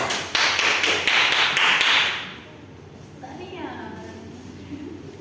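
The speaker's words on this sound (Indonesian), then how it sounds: "tepuk tangan untuk Angel" A classroom of pupils claps for a classmate named Angel during a teaching simulation, a dense burst of hand claps for about two seconds that then stops abruptly, leaving faint room noise and a voice in the background.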